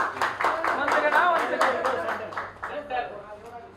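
An audience claps at an album launch event, a run of fairly distinct hand claps close together over a low hum, tapering toward the end, with voices talking over part of it.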